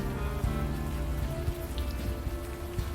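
Steady rain falls in the adventure game Unavowed, a dense, even hiss of drops on hard surfaces with a low rumble beneath, constant throughout and no voices.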